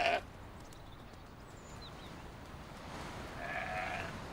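A faint, distant bleat of a Soay sheep rises late in the clip over a steady outdoor wind hiss on the rocky Hebridean island of St Kilda.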